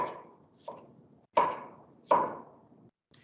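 Knife chopping peaches on a cutting board: four distinct sharp chops at irregular intervals, each followed by a short ringing decay, close and clear with no talking.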